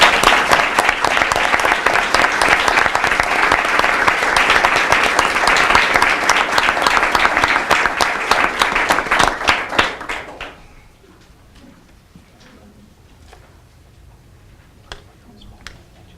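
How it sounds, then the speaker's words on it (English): A school board meeting audience claps together for about ten seconds, dense and energetic, then the applause abruptly fades to a few scattered claps and quiet room tone. "Let's give these 5 students another round of applause,"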